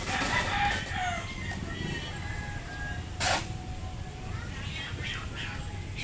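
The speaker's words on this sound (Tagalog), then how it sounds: "Ayan yung manok na yung Paring Kian." A rooster crows outdoors at moderate distance over a steady bed of background noise, with a brief louder burst partway through and faint ambient sounds around it.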